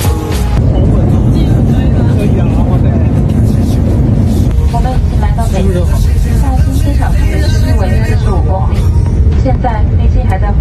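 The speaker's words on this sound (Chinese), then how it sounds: "飞机还在滑行中" Low, steady cabin rumble of a passenger airplane taxiing, loud and unbroken throughout, with voices and music running over it.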